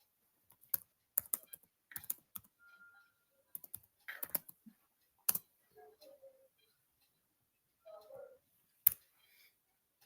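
Keyboard typing for a chat message, sparse bursts of close clicky keystrokes separated by pauses, faint and quiet, with a couple of soft low sounds between.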